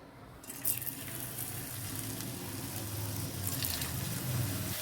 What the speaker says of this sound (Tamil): இப்போ உருளைக்கிழங்கு அதில் சேர்த்துக்கலாம்.